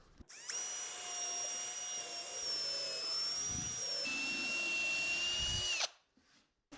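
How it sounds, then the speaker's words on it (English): A power drill, guided by pre-drilled holes, bores through the center of a piece of plywood in a woodworking shop, a loud, steady high whine for several seconds that cuts off abruptly, with no talking. "I drill through the center of this plywood"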